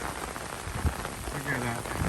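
Rain falls hard and steady in Bolivar, Missouri, a close, even wash of drops hitting the ground and an umbrella, with a voice briefly speaking over it.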